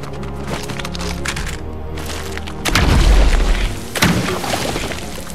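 A weapon fires in Fortnite: a heavy boom bursts out over a steady game background, followed by a second sharp crack about a second later.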